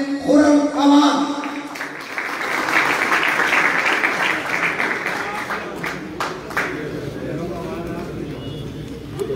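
Crowd at a pigeon club prize ceremony in Haripur applauds after a prize winner is announced, a broad wash of clapping rising after a brief loud burst at the start and holding steady with scattered voices underneath.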